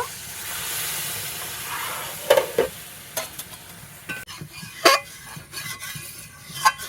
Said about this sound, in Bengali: আলু পটলটা কষানো হয়ে গেছে এবার আমি দিয়ে দেবো জল একদম অল্প জল দেব